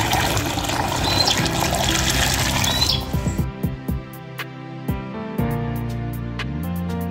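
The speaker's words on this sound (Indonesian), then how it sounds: "Dan kemudian sprayer ini kita isi full," Water runs into a sprayer tank being filled with leaf fertilizer solution, a steady pouring and splashing at first that turns into sparse dripping and trickling, close by with no voices.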